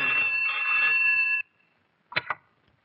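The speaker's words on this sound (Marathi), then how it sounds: "घ्या, पोरीचा फोन आहे." A telephone rings in a steady burst for about a second and a half, followed by a short double chime after a pause, with no talking over it.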